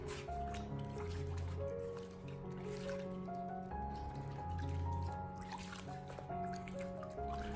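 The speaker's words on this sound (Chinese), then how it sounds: "我们在清洗生菜的时候，尽量的给它反复的多淘洗几遍" Lettuce is swished and rinsed in a basin of water, with soft continuous sloshing, squishing and trickling close by, steady throughout.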